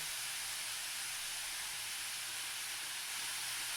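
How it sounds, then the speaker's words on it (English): A steak sizzles steadily in a hot pan, a constant bright hiss that stays close and even throughout, with no talk. "Just hearing that sizzle reminds me of that."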